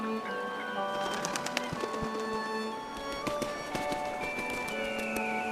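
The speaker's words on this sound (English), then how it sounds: "The wetland in late autumn pulsates with a chorus of bird calls." A dense chorus of bird calls fills a late-autumn wetland in the Qilian Mountains, with many overlapping chirps, whistles and coos at varying distances forming a continuous busy layer, no talk.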